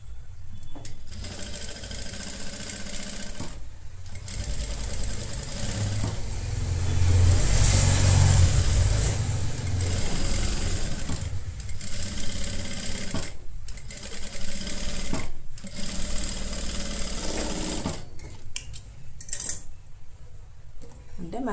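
A sewing machine runs in bursts, stitching along the neckline of a halter neck blouse, its fast mechanical whirr stopping and restarting with short pauses.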